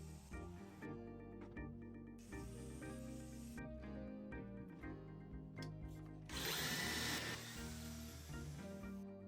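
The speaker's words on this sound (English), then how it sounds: "Then drilling pocket holes." A power drill whirs in several bursts while drilling pocket holes in plywood for cabinets, its motor pitch rising and falling, with a harsher grinding stretch near the end as the bit bites into wood.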